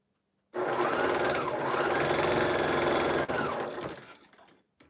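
A sewing machine stitches fabric in a steady, fast whirring run that starts abruptly, holds for about three seconds, then winds down and stops, with no talk.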